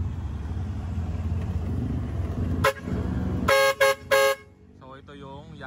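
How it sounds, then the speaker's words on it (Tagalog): A Mitsubishi Mirage fitted with Wolo Power and Yankee truck air horns sounds a short blast, then three loud honks in quick succession over idling engine rumble, followed by a person speaking nearby. "ito yung sample ng ating Wolo Power Air Horn at Yankee Truck Air Horn."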